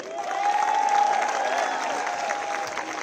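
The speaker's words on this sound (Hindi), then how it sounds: "सबसे पहले चाहूंगा कि आप सब हम सब के लिए तालियां बजाएं।" A protest crowd for the Cockroach Janta Party applauds, a broad wash of clapping mixed with scattered cheers and a sustained whistle-like tone, steady and moderately loud throughout.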